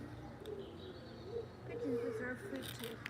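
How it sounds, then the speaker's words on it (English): A pigeon coos softly in a low, repeated burbling rhythm outdoors where squirrels are being fed, faint against background noise. "Is that a squirrel? A pigeon?"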